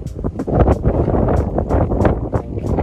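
Steady, blustery cold wind in Japan roars across the microphone, rumbling low with gusty surges throughout and no voices.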